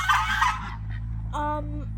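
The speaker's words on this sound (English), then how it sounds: "we have two special guests here, Jami, the male peacock, and well, the female peahen doesn't really have a name yet" A peacock and a peahen call close by: first a brief noisy squawk, then a loud, nasal, honking cry that holds for about half a second over a steady low background hum.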